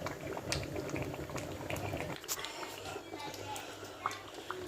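Stew bubbling steadily in a pot on the stove, a continuous close boil with light spattering, and a voice talking faintly over it in the first half.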